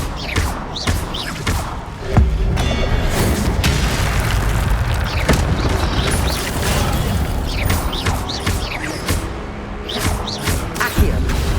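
A fire spell cast during combat in Hogwarts Legacy, with a heavy booming burst near the start amid dense, continuous clashing effects, thuds and pops that fill the whole stretch without letting up.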